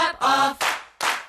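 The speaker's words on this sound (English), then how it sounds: "Why do I keep clapping?" Three sharp hand claps in quick succession, close and loud, each ringing briefly in a room.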